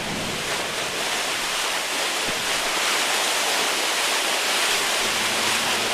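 Water discharges from a fully opened fire hydrant in a loud, steady, broadband rush that holds constant and close throughout, with no voices.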